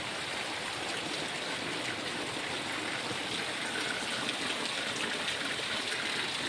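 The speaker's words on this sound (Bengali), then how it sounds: "নোংরা আসতেছে জলটা" Dirty rainwater flowing steadily in a continuous broadband rush, close and even throughout, with no voices.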